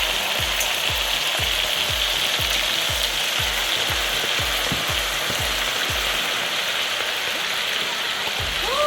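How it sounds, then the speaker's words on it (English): Plantain and gizzards fry in hot oil at home, a loud continuous sizzle with a rapid run of rhythmic scraping stirs in the first half, then steady crackling alone. "No, we have not finished frying."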